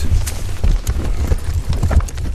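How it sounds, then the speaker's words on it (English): A horse breaks into a quick trot, its hooves clip-clopping in an irregular, fast patter with heavy low thuds, close and fairly loud throughout, heard without any speech in a Lord of the Rings audiobook scene. "The horse stepped forward, walking slowly at first, and then breaking into a quick trot."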